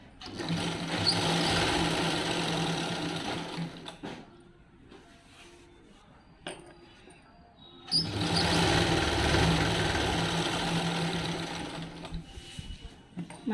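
A sewing machine stitching the pico fall edging on a saree runs in two loud, steady bursts of a few seconds each. Between them is a quieter gap with faint handling noise.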